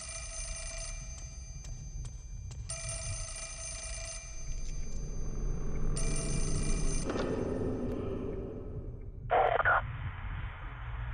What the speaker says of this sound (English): Now the phone's ringing.